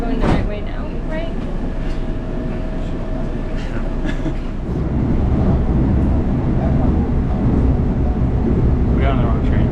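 A metro train ride in Korea, with the steady low rumble and rattle of the carriage heard from inside throughout. Occasional faint voices murmur in the background.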